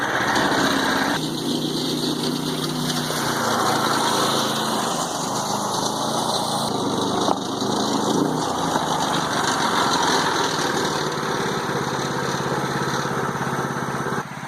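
Predator 212 gas engine running in a converted EZGO Marathon golf cart, a loud, continuous small-engine drone that holds steady throughout with slight shifts in pitch.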